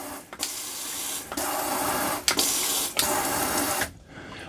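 The nozzles of a LUXE Bidet NEO 120 extend and shift back and forth with a steady, near mechanical whir and hiss, cut by several short clicks and pauses, with no voices.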